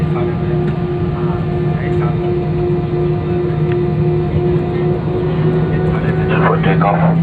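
Airplane taking off from Andaman Island, a steady loud engine roar with a constant drone throughout, with people talking over it inside the cabin.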